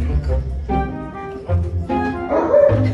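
A husky throws a dramatic tantrum, whining, yipping and barking in loud, close bursts that rise and fall over a few seconds, with a person speaking intermittently underneath.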